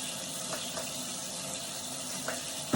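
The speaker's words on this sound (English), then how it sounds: "get the tap on and run some water" Water runs steadily from a bathroom tap into a sink, a continuous close hiss and splash with no talking.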